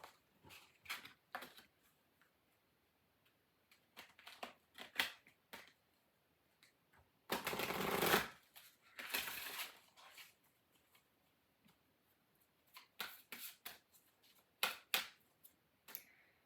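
Halloween oracle cards are shuffled during a tarot reading: scattered quiet snaps and riffles, then two longer loud bursts of cards rushing together midway, followed by more sparse close flicks and taps, with no talk.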